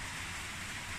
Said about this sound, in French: Je suis désolé pour le bruit, il pleut.